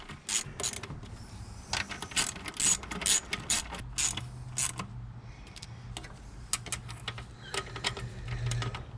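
A ratchet wrench clicks in rapid bursts while running in the bolts on a throttle body spacer for a Nissan 4.0, close and crisp, with short pauses between runs and a low hum underneath.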